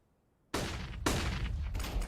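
Flashbang grenades burst in Counter-Strike on the Dust2 map, a sudden loud blast followed by two more detonations in quick succession, each leaving a dense ringing wash with no speech.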